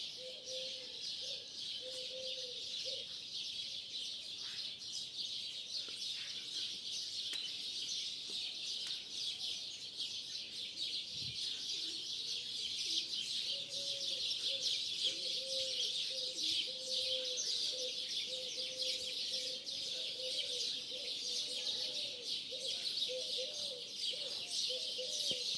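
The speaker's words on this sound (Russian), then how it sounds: "как орут эти птицы" Starlings calling loudly and continuously outdoors, a dense chorus of chattering, whistling calls held steady over a constant background hiss, with no talk.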